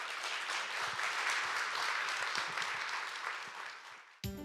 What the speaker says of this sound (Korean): 최덕근 교수님을 큰 박수로 환영해 주시기 바랍니다